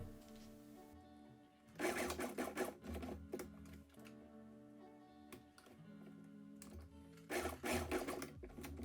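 A sewing machine basting knit sweater fabric, its motor running in two loud bursts of rapid stitching separated by quieter stretches of the machine humming and ticking, close up with no talk.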